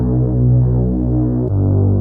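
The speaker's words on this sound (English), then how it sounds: "Oh, I also have a Reese Bass." A Reese bass synth from a phonk track, a deep, thick and slightly throbbing sustained tone that shifts to a new note partway through, loud and alone with no highs above it.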